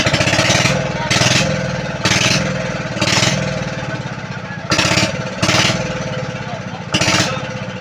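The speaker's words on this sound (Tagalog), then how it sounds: "ito pala yung makina ng bangka natin mga idol na lumubog sa tubig" The engine of a boat that sank in seawater runs nearby with a steady chugging drone, broken by short, louder bursts that recur about every second.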